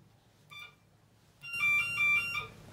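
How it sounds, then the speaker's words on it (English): Elevator alarm ringing in an apartment building's Kone/US hydraulic elevator, a short electronic tone burst followed by a louder sustained, wavering ring, heard close and alone. "I like that alarm."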